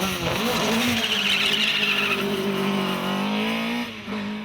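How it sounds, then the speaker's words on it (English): Hillclimb race car at full revs at a British hillclimb, engine screaming loud and close as it shifts up through the gears, the pitch rising and dropping with each change, then briefly dipping near the end. "it's maximum revs and up through the gears for the blast over Berkshire Eyes and the finish line"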